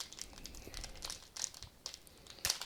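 Plastic wrappers of Sorcery Contested Realm booster card packs crinkling and tearing open, close and soft, with a few sharper crackly bursts.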